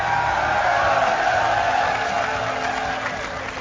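Crowd cheering and applauding at MLG Raleigh 2012, a steady broad roar that holds throughout and thins slightly toward the end.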